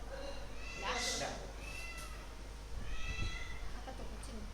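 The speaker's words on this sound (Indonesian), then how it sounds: "Apa tuh kucing?" A cat meows indoors during a casual tarot-reading session, two drawn-out meows a couple of seconds apart, clear and close over a steady background hum.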